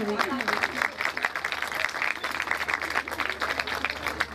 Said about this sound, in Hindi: आपकी भरपूर तालियां इनका हौसला बलबला बढ़ाती रहेगी